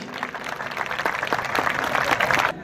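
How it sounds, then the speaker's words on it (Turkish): Applause from the audience at an iftar program in Konya, a dense burst of clapping that stays steady and fairly close before stopping abruptly. "Alemdar Öztürk Beyefendi'ye bir alkış."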